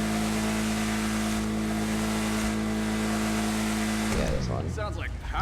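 A Bravado Gauntlet Hellfire muscle car in GTA 5 holds a loud, steady engine drone, then revs up sharply near the end with a rising, throaty roar, a voice talking over it.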